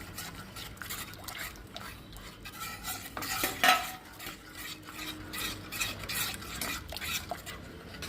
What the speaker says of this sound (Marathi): आता हे डार्क चॉकलेट जोवर मेल्ट होतो तोवर आपण हे मिक्स करू